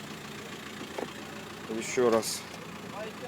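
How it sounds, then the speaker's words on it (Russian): A 2008 Volkswagen T5 with a 1.9 engine idles at a car market, giving a steady, quiet low hum, with someone speaking briefly over it. "Так вот работает двигатель."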